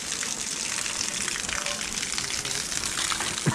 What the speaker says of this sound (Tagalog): yan lakas ng tubig eh